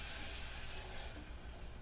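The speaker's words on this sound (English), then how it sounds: "the coffee is immediately boiling" Coffee poured into a very hot pan boils instantly, giving a steady, broad hiss and sizzle that holds evenly throughout, faint and with no talking over it.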